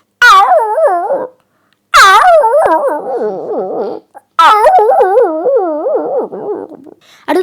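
A school student performing mimicry at a school program in Chelannur mimics a starving dog's wavering howls and whimpers in three long, loud bursts separated by short pauses, close to the listener.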